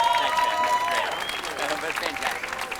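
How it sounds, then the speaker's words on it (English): A crowd applauds at Ron Howard's Hollywood Walk of Fame star ceremony, with sustained outdoor clapping and a voice speaking over it. "I'd like you to once again applaud Ron Howard."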